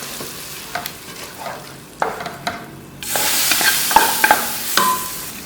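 A loud burst of sizzling erupts midway as hot tempering oil is poured into masoor dal with ridge gourd, following quieter clinks and stirring scrapes, then steady frying hiss continues.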